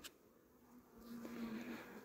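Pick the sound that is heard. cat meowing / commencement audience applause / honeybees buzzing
honeybees buzzing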